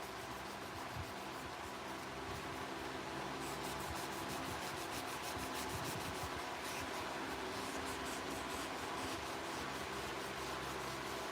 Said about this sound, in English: Now we're just doing a little bit of sanding before I go into polish.